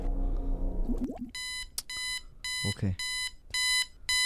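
An alarm clock in the indie horror video game Recurrent rings in repeated bursts of bright electronic beeping, loud and close, with someone speaking briefly between the first beeps.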